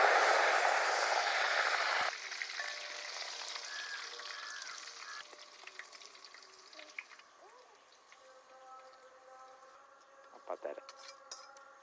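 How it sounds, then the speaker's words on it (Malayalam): Split green chillies and curry leaves fry in oil for a restaurant-style chicken 65. A loud burst of sizzling opens the clip, then fades into quieter frying with scattered utensil clinks. "ഒരു പത്ത് പച്ചമുളക് രണ്ടായിട്ട് കീറിയതാണ് ഇതൊന്ന് വറുത്തെടുക്കാം കുറച്ച് കറിയാപ്പിലേ"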